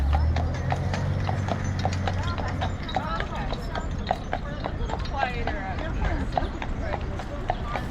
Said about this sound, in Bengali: শহরের রাস্তায় প্রায়শই চলতে দেখা যায় ঘোড়ায় টানা গাড়ি